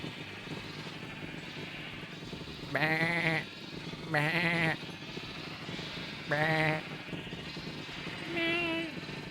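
Several sheep bleat in Minecraft Skyblock, four distinct wavering cries spaced a second or two apart over a steady background hum, each loud and close.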